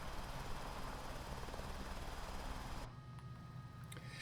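A helicopter rotor in a flight simulator game gives a faint, steady whooshing drone with a low pulsing beat, dropping in level near the end as the engine sound eases, with no voices.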